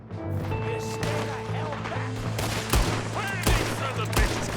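Gunfire in Red Dead Redemption 2, a few sharp shots ringing out over a droning background hum, with loud cracks landing near the end, some spaced a second or so apart.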